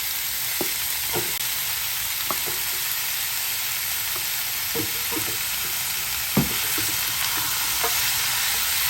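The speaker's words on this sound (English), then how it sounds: "right away we're just going to add the already diced meat pork" Diced pork frying in a pan with onions: a loud, constant sizzle close by, broken by occasional stirring knocks and scrapes, and no talk.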